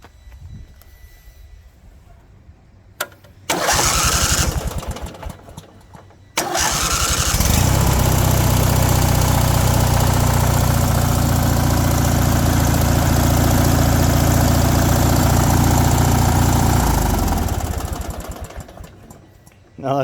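A Briggs and Stratton opposed twin engine on a Craftsman LT1000 lawn tractor being started: a short starter crank, then a second crank that catches into a loud, steady roaring idle, which winds down near the end.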